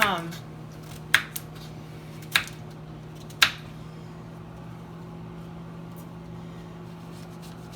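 A knife chopping squash on a cutting board for a squash casserole, with three or four sharp, close cutting knocks early on, then a low steady hum with a few faint taps.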